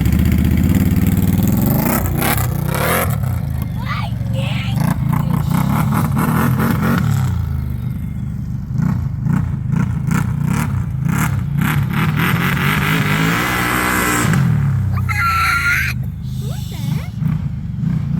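A 2022 Can-Am Outlander 1000XMR ATV engine and exhaust rev loudly and close, rising and falling through several throttle blips and sustained roars, with brief lulls at idle and someone talking over the exhaust between pulls.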